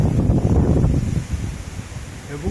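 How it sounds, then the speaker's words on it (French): Strong wind blows on a hillside path through lychee orchards above Shenzhen, a broad rushing roar that is loudest at first and then eases slightly; no one speaks. "Il y a beaucoup de vent aujourd'hui."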